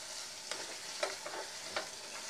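Chicken chorchori stirred in a hot pan sizzles steadily, with a few distinct scraping strokes of the spoon against the pan over the constant frying hiss.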